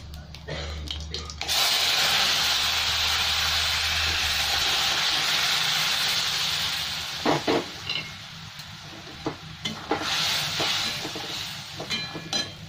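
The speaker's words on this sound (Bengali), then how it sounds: "এবার আমি এদিকে গ্যাস বন্ধ করে ডালটা ঢেলে দিলাম আস্তে আস্তে" Cooked mixed-vegetable daal poured slowly into a hot whole-cumin tempering with the gas turned off, bursting into a loud hissing sizzle that fades into bubbling, followed by spoon scrapes and clinks against the pot.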